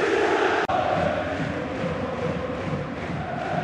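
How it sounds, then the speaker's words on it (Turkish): Stadium crowd at İnönü Stadium roaring and chanting for Beşiktaş during a Champions League match against Barcelona, a dense, steady wall of massed voices with one brief dropout near the start. "Tribünlerde muhteşem bir tezahürat Beşiktaş'a."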